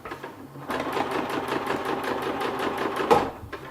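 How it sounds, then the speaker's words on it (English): A sewing machine stitches along a silpoly fabric edge with a fast, even rattling run that starts abruptly, holds steady for a few seconds and then stops, with a faint click near the end. "I'm trying to sew as close to this edge as I can."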